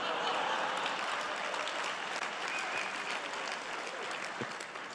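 A large crowd applauding after a political speech, dense continuous clapping and cheering that holds loud and steady throughout, fading only slightly at the end.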